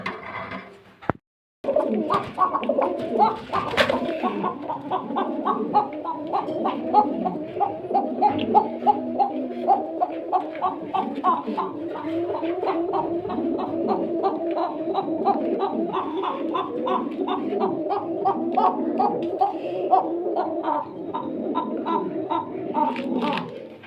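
Pigeons kept for sale with eggs and chicks in Bhawal Mirzapur coo continuously and nearby, a dense run of throaty rolling calls lasting throughout, with one brief knock near the start and no talking.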